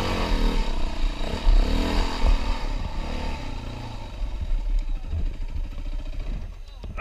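A motorcycle engine revs and labours unevenly around a crash, its rising and falling drone mixed with clatter and sputtering, while people talk over it.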